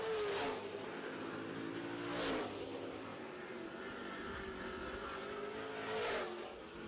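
Super trucks race door to door around a dirt track, engines droning steadily at a distance and surging in three loud passes as they sweep by.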